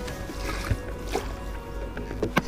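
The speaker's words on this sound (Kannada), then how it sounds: "this was the Guy who was roving the boat" A man rows a boat on water, with soft oar splashes and dribbles recurring at a slow rhythm over a low, steady background murmur.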